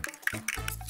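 Yeast batter base for kefir doughnuts is poured from a container into a large bowl, giving a short liquid splash and drip that settles into a steady, close pour with no talking.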